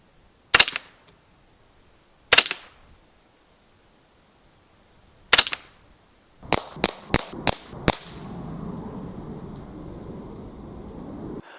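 A CZ Scorpion EVO 3 S1 carbine in .22 LR fires sharp, close single cracks: three spaced shots, then a rapid string of five, followed by a low rustling hum.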